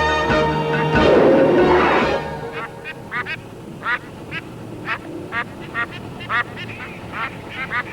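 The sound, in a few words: ducks quacking in a Simpsons cartoon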